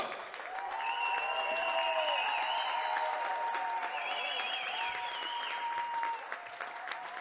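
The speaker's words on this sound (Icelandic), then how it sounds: "Gefið þeim gott klapp." A hall crowd claps steadily for the Stjarnan boys' team after their gold-medal win, a dense, sustained wash of applause with whistles and a few voices rising above it before it tapers at the end.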